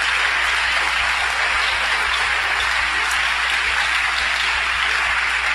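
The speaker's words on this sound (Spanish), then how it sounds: "Un aplauso fuerte para nuestro Dios esta noche." A church congregation applauds loudly during an evening service, a thick continuous roar of clapping that stays even and unbroken from start to finish.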